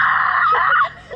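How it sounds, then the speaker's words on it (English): Loud screaming from people on a fair ride, a sustained high shriek that breaks off and trails into fainter voices. "Can you start screaming right now?"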